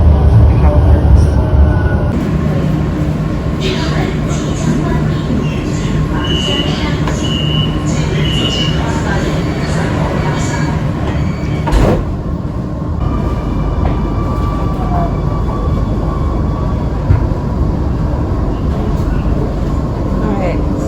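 Subway train running, a steady loud rumble and rattle of the carriage with high squeals and tonal whines from the wheels and motors, an interior ride that holds constant throughout.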